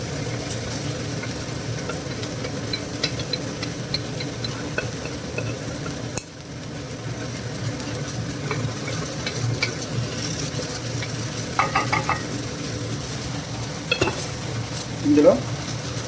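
Already-cooked rice for tomato rice fries in a pan and is stirred continuously, giving a steady close sizzle with soft scraping and a few sharper utensil clicks, with a low background hum and no speech.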